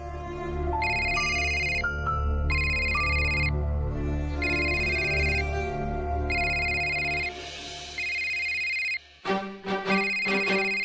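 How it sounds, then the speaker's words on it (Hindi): A mobile phone rings with a repeating electronic melody in bursts, fairly clear and alone, ending with a brief clatter as it is picked up. "फोन बज रहा था ना, इसीलिए उठाया मैंने।"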